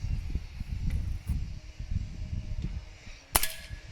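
A Gamo Big Cat Turbo 4.5 mm air rifle fires a dieseling shot: one sharp, loud crack near the end, preceded by handling noise and low rustling.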